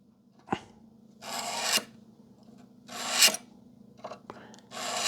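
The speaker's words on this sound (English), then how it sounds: "the carbide scribe, it just peels off the plastic" A carbide scribe scratches across the plastic housing of a Mitsubishi Pajero transmission control unit in several separate rasping strokes, each about half a second long with short pauses between, close and moderately loud with no talk.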